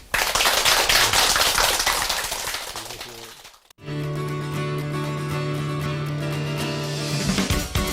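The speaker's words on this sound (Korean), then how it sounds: "큰 박수로 환영해 주시기 바랍니다" A studio audience gives loud, dense applause to welcome a guest. The clapping thins and fades out after a few seconds, and steady music follows.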